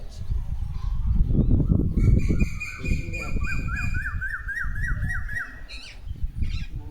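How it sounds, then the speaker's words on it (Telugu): Repeated rising calls of an Asian koel ring out in a clear series over a loud, busy background of rustling and low noise, with squawky tones mixed in. "ఈ కోకిలమ్మల అరుపులు అంటే అబ్బా ఎంత ఇష్టమోనమ్మా"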